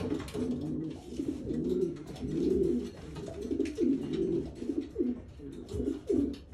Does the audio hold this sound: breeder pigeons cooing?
yes